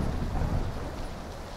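Rain falls in the video game PUBG, a soft steady wash of noise with a low rumble underneath, quiet and continuous throughout.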